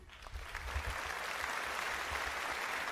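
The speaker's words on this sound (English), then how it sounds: "Big round of applause for Cousin Jimmy." Applause from a comedy podcast audience welcoming a guest named Cousin Jimmy, a steady broadband clatter of clapping that swells early and holds at an even, fairly close level for the whole stretch with no talk over it.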